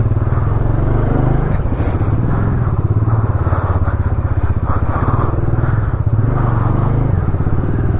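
Motorcycles riding on a Himalayan road from Leh toward Hanle, a loud, close, steady engine drone with rhythmic thrumming and some clatter, continuous for the whole stretch with no talking.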